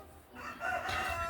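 A rooster crows outside, a single drawn-out cock-a-doodle-doo heard at moderate distance and fairly faint, alone without talk.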